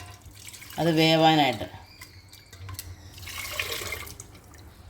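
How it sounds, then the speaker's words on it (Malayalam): Water splashes and pours into a pot for a mango curry for a few seconds while a person speaks nearby. "കുറച്ച് വെള്ളം ചേർക്കാം"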